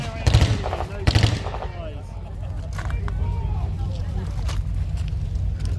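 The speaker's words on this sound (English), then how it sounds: "the Americans are able to bring considerable small arms fire to bear from their light" Light machine guns firing in a staged WWII-style battle re-enactment between American and German forces at a tank show, with loud rapid bursts up close at first, then continuous distant rattling fire under a crowd's ambient murmur.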